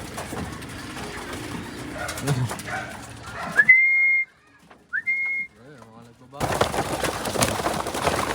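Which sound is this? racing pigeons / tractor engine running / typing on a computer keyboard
racing pigeons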